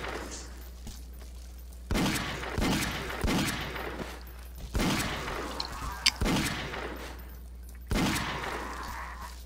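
Repeated bursts of video game gunfire from shooting in SMOD Outbreak, a run of sharp shots and volleys spaced a second or two apart over steady background game ambience, with a few louder cracks standing out.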